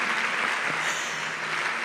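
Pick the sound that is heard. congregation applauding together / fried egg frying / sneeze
congregation applauding together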